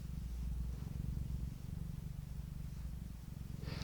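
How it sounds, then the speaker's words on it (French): A house cat purrs close up, a soft low rhythmic rumble pulsing steadily with each breath, quiet and intimate, with a faint brief rustle at the very end. "Ou tu nous fais encore un petit peu des ronrons."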